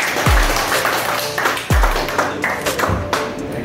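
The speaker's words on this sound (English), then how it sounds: "So let's give him a big round of applause." Audience applause at an MYDF Academy event in Jeddah, uneven clapping with two sharp low thumps like microphone bumps, moderately loud, with faint voices and scattered claps continuing underneath.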